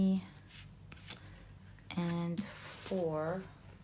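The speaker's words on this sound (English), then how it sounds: "let's shuffle with intention" Soft riffling and shuffling of a tarot card deck in short bursts, with a voice speaking quietly at times.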